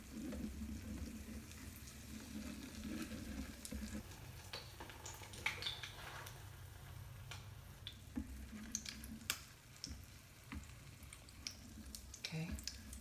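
Bacalaitos, Goya fish fritters with peppers, sizzling in oil in a frying pan, a steady close crackle with scattered pops and ticks as they are flipped.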